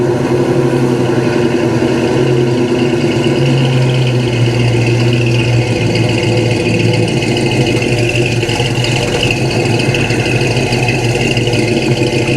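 Ford Ranchero engine running steadily, a close, loud, even mid-pitched drone with a constant low rumble and no pauses throughout.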